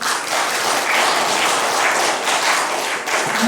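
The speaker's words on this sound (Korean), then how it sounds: "다시 한번 참 축하의 박수 보내주십시오." Warm, continuous applause from the audience at a literary award ceremony and book launch celebrating the winners, dense and close with individual claps audible.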